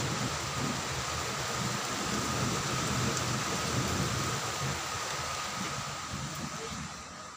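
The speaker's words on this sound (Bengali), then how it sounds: "খুব জোরে বৃষ্টি এসে এখন একটু কমছে।" Heavy rain pouring steadily as it starts to ease off, a dense continuous hiss that fades a little toward the end.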